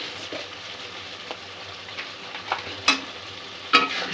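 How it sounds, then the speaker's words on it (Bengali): Masala with a spoonful of sugar being stir-fried in oil for a prawn curry, with a low steady sizzle and occasional sharper scraping stirs that grow more frequent toward the end, with no talking. "দু 1 মিনিট চিনি দিয়ে মশলাটা আরেকটু কষে নেব"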